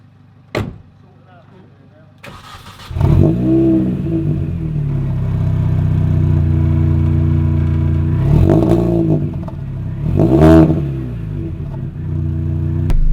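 A car door thuds shut on a new Mini, then its engine starts and hums steadily with a couple of revs as the car pulls away, close by.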